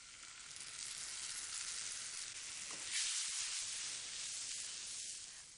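Chopped onion and tomato sauté in a pan, a constant, close, hissing sizzle that swells briefly midway, with a faint utensil scrape.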